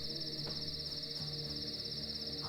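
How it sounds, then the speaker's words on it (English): Cicadas in the video game The Last Stand: Aftermath give off a continuous high, pulsing electric buzz, faint but unbroken, over a soft low background with no talk. "On the downside, we've got cicadas."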